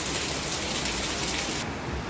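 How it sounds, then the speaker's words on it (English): Steady rain falls outdoors on the return from a hike near Rincon de la Vieja Volcano in Costa Rica, a dense, loud, even hiss with no talking. "Surprise, it's raining on the way home."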